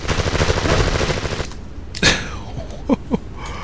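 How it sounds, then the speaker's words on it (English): Enemies firing guns at the player in the PS2 video game Dark Angel, a rapid burst of automatic fire followed by a few scattered single shots. "These guys are having a ball. Just firing away at me."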